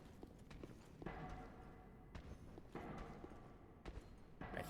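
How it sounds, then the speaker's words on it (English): Footsteps clop heavily in Dark Souls III, a series of hollow, evenly spaced thuds echoing through a stone space at moderate distance, with no voices over them. "I hear footsteps."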